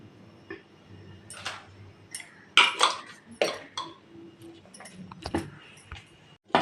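A spoon scrapes and clinks against a bowl of flour and baking soda in irregular strokes close by, with soft rustling between the louder knocks.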